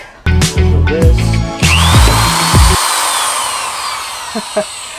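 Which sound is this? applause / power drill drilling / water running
power drill drilling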